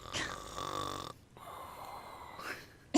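A person imitates loud, rhythmic, chainsaw-like snoring in two long rasping breaths, each ending in a wheezy rise, with a short pause between them and a sharp noise at the close.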